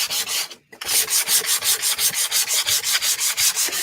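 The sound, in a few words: sanding paint with a clean piece of sandpaper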